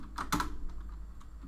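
Code is typed on a computer keyboard during Unity game development: a quick, close flurry of soft key clicks followed by a few sparser taps, fairly quiet and with no talking.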